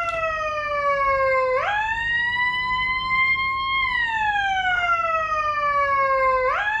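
A Whelen 60-watt siren module plays through a speaker, a loud electronic wail that rises and falls in slow sweeps with sharp jumps in pitch, close and uninterrupted.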